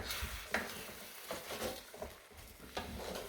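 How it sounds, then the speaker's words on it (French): Omelette cooking in a pan, with a soft steady sizzle and a few scraping strokes of a utensil against the pan, fairly quiet and heard alone. "Et c'est parti pour la cuisson."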